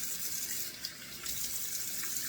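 Tap water running into a sink during a wet shave, a steady close hiss and splash that carries on throughout the short moment.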